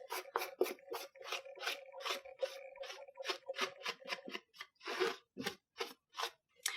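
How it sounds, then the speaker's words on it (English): Repeated soft brushing strokes as talc powder is swept off a poured acrylic canvas to absorb silicone, a steady run of about twenty quick scratchy swishes, close and moderately loud, with no voices. "shake a little bit of this talc powder onto your canvas, and then you're just going to brush it around and absorb any of that silicone"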